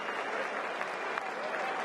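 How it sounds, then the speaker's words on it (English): A cricket crowd applauding after England are bowled out for 58 in a Test match against New Zealand, steady distant clapping that fills the whole moment without a break. "And quite rightly does Trent Boult get the applause"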